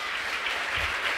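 A church audience claps in a dense, continuous burst of applause during a sermon, loud and steady across the moment with no speech over it.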